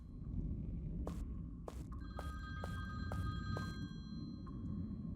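A telephone ringing in the video game Sonar Shock, a run of evenly spaced electronic bell rings sounding clearly over a steady low background hum.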